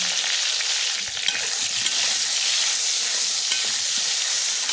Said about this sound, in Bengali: তেল এখানে দেখো গরম হয়ে গেছে, কেটে রাখা পটলগুলো দিয়ে দেবো